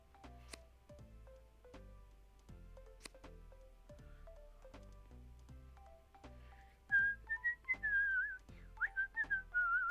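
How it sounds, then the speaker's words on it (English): A person whistles a wavering melodic tune in the last few seconds, loud and close over quiet, plinking game tones and soft clicks from a Solitaire game. "I taught myself how to whistle from."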